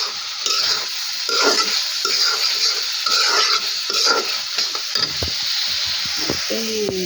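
Dal simmers and sizzles in a pan while a spoon stirs it, giving a continuous frying hiss with scraping strokes and occasional metallic clinks of utensil against the pan, close and fairly loud.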